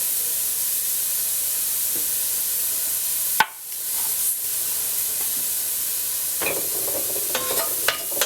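Seasoned meat sauce with salt and fresh ground black pepper being stirred in a pan, a steady background hiss with a sharp clink around the middle and scattered light scrapes and taps toward the end.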